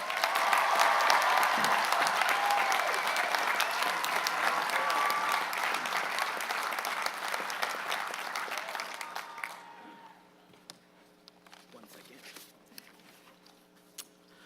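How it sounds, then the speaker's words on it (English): An enthusiastic commencement crowd applauds the class of 2019 student speaker, loud dense clapping with some cheering that holds for about nine seconds and then drops off abruptly, followed by a few scattered claps in a quiet hall. "Please join me in extending an enthusiastic round of applause for the class of 2019 student speaker, Hamza Qureshi."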